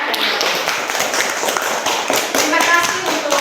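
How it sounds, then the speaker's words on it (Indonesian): Children in a classroom clap together, a brisk run of sharp taps and claps continuing steadily, with voices mixed in. "tepuk tangan untuk Madi yang sudah membaca."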